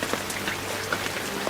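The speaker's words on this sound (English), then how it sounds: "It's kind of a lot of rain right now" Heavy rain pours onto a lake, a dense, even patter of drops with small splashy accents scattered throughout, close and steady with no one talking.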